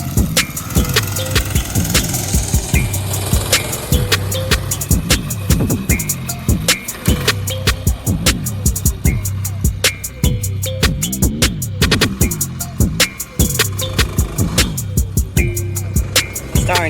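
Go-kart engine rattling and buzzing as it drives with light throttle, rough rhythmic pulses and repeated clicks and knocks, loud and close throughout.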